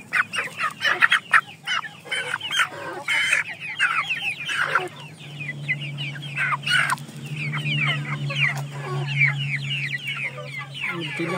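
Giant Indio Gigante chickens cluck close by in a busy, overlapping chorus of short calls, with a lower drawn-out crowing tone sustained underneath through the second half.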